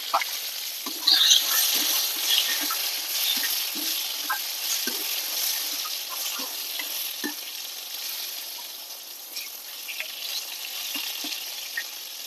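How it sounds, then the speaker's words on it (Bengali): Pointed gourd fries in hot oil with salt, a steady loud sizzle with occasional soft stirring scrapes in the pan, close and continuous without talk. "পটলটা ভালো করে ভেজে নেব লবণ দিয়ে পটলটা ভেজে নেবো"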